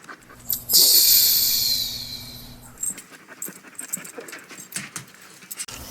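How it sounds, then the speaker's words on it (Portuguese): A dog pants and sniffs close by with soft whimpering noises, after a brief hissing burst at the start. "o cachorro já tá puxando ali"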